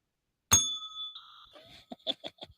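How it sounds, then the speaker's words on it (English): A single bright bicycle bell ding rings out and fades, followed by a quick series of light clicks or taps. "Ring the bell."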